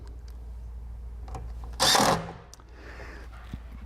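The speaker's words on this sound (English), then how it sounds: "Now come over to this one and run these screws in." A power driver runs a screw into a studio desk panel in one short burst of whirring, preceded and followed by light handling clicks and a low room hum.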